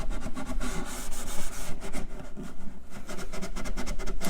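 A finishing pad rubs wood finish onto a furniture drawer, a soft steady scrubbing rasp with rhythmic back-and-forth strokes, close and fairly quiet.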